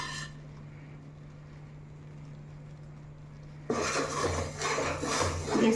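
A spoon scrapes and rasps around a pan while semolina and gram flour roast in it. The rough stirring starts abruptly after a quiet stretch of low background hum and then carries on close and loud.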